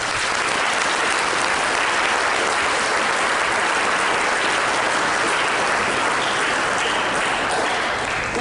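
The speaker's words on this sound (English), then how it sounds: "All of the new and returning members also deserve a round of applause too." Sustained, dense applause from an audience at a 2013 National Honor Society induction ceremony, honoring new and returning members; steady and full throughout with no speech over it.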